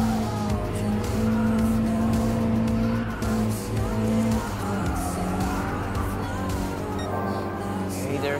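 Race car engines in Gran Turismo Sport, a Honda NSX Type R and an Alpine A110 Premier Edition among the field, sustained loud droning engine tones shifting pitch as cars accelerate and run close, with a voice commentating over the roar.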